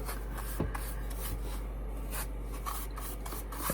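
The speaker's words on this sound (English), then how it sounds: "I'm going to rub it back a little bit and rub it in" A cloth rubs Fusion clear wax into a rustic wooden Valentine craft, producing a close, soft, steady scrubbing and rasping with short strokes repeating throughout.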